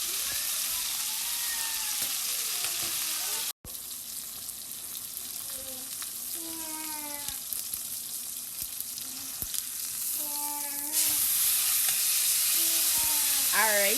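A T-bone steak sizzles in a hot pan, a constant bright frying hiss up close that swells louder near the end, with someone talking briefly over it.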